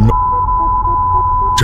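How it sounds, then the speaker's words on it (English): A steady, loud single-tone censor beep sustained for well over a second, masking speech, with brief voice fragments at the start and end. "Sounded like a bunch of beeping to me."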